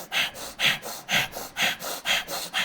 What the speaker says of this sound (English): we'll do what's called breath of fire